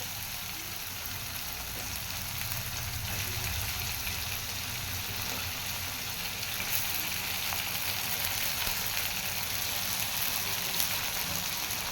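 Onions and tomatoes fry in a pan, giving a soft continuous hiss and crackle that stays even and fairly quiet throughout, with no talking.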